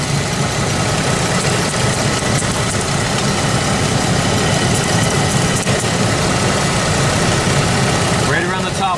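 A 1999 GMC Jimmy engine with a cold-start problem idles roughly up close, giving a loud, continuous rumble with uneven vibration throughout.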